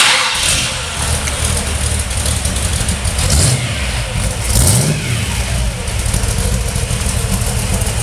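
A 1932 Ford Highboy hot rod engine cranks and fires up, then roars through a couple of sharp revs before settling into a loud, rumbling idle.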